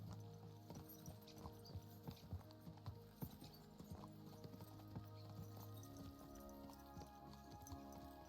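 Horses' hooves clip-clop in the Kingdom Come: Deliverance 2 video game, a quiet, steady trotting rhythm of many hoofbeats over a low sustained music bed, with no talk.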